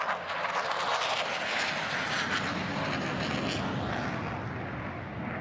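A Navy F-35C fighter jet with its Pratt & Whitney engine on full afterburner roars in a broad, loud, sustained blast at an air show, heard alone and steady for several seconds.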